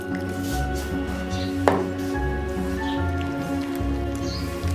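Cupcake batter being stirred with milk in a mixing bowl, giving a steady wet, squishy churning with soft drips and splashes, close and continuous, with one sharper knock of the spoon against the bowl.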